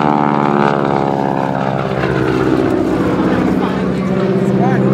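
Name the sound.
Boeing Stearman biplane engine during airshow aerobatic maneuver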